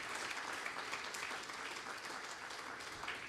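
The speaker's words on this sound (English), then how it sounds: "Can I hear a round of applause for her?" Audience applause at a business leadership event as a speaker is invited on stage, a steady dense clapping that stays loud and even throughout with no talking over it.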